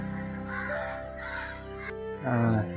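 Crows caw at dusk in a cold-season evening as birds return to their nests, with harsh calls rising over a background of soft talk and ambient noise.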